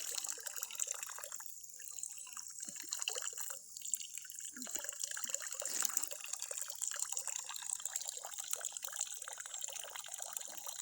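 A weak trickle of water runs from a household tap, a soft, faint, continuous splashing and dribbling with small irregular drips, heard close and alone.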